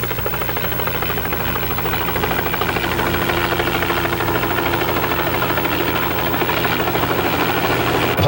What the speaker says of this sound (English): the team of Society and Game Department personnel are alerted by the sound of the helicopter, signaling the arrival of their captured guest